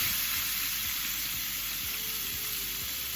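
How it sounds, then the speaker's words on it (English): Steaks searing in vegetable oil in a cast iron skillet over high heat: a loud, dense, continuous sizzle close up, with faint low thumps recurring every half second or so beneath it. "So I've poured some vegetable oil onto my cast iron skillet, and the stove is on the hottest setting because I want the steaks to get a really nice sear"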